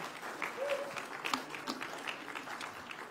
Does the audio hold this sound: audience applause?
yes